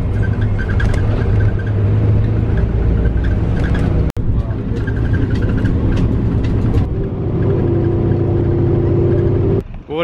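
Steady, loud engine rumble and road noise fill the inside of a city bus driving on Jeju Island, South Korea, continuous throughout with a brief thump partway and a shift in tone near the end.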